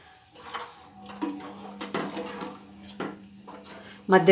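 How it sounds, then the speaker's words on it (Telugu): A spoon scrapes and clinks against a pan while moticur laddu mixture is stirred, soft irregular strokes at close range, with a brief louder metallic clatter at the end and a voice talking over it. "ఇప్పుడు మనం కలపాలి దాన్ని. ఇంకో కలుపుతూ ఉండాలి."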